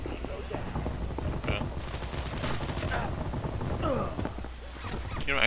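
Rapid shotgun fire in the shooter game Combat Master, rattling bursts repeating densely over a busy battle bed with other weapons and movement sounds, a voice occasionally talking underneath.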